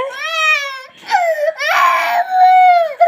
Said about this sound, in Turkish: Sen niye ağlıyorsun şimdi?